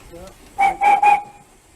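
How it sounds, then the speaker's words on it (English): A British steam locomotive whistle blows in three short, shrill blasts close by, with low rumble and murmured voices faintly in the background. "Whistle."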